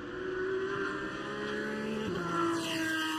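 A powerful V6-based race car engine drones steadily at a distance, its pitch shifting slightly as it passes, with no voices.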